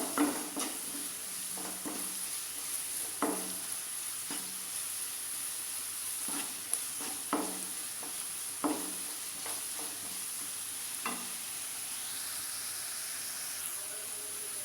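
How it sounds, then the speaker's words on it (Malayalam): Ginger garlic paste being stirred in a frying pan, a soft steady sizzle with repeated spoon scrapes and taps against the pan at irregular intervals, close and quiet, with a constant high hiss underneath and no speech. "ഇനി ഇതിലേക്ക് ജിഞ്ചർ ഗാർലിക് പേസ്റ്റ് ഇട്ട് കൊടുക്കാം. നന്നായി മിക്സ് ചെയ്യാം."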